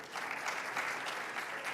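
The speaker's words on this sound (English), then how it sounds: "Let's kindly give them a round of applause" A youth conference audience gives a round of applause, a dense burst of clapping that stays even and fairly close.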